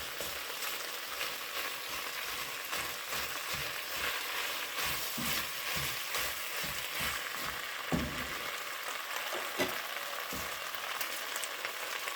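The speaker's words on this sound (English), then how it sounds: "I think I'm going to brown the onions a little bit." Large-chopped onions browning in a pot as the base for Irish stew give a steady, close sizzle, with soft scrapes and stirring knocks scattered through the frying.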